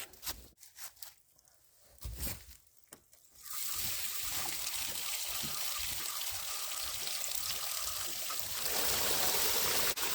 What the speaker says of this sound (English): let's get this tank drained